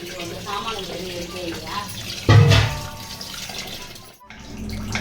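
Food being washed under a running tap, water splashing and gushing in a sink with a louder burst midway, over a background of indoor noise and faint voices.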